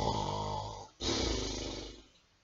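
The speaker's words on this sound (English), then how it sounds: "A toad's about to snore." A toad snoring as a story sound effect, two loud, close, rasping snore breaths in a row, the second tailing off into quiet, with no talk over them.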